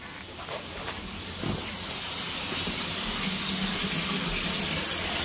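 Hot water runs steadily from a tap fed by a repaired Stiebel Eltron Tempra 24 Plus tankless heater, a broad hissing rush that builds slightly and stays constant with no talking.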